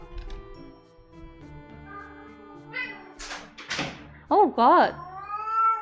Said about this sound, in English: Cat. Do you hear that?